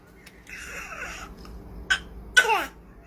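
A small girl imitates a sneeze on cue at home, giving two short, sharp bursts near the end, the second louder, with quieter vocal sounds just before them.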